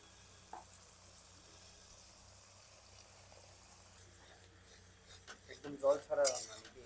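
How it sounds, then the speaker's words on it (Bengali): Coconut milk is poured into spice paste frying in oil for rui fish kalia, giving a low, steady sizzle that swells into louder bubbling and stirring toward the end, with talking in between. "এবারে দিয়ে দেবো নারকেলের দুধ"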